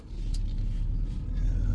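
Tanker truck's engine idling with a deep, steady low rumble close by, held at a constant level without a clear rev rise.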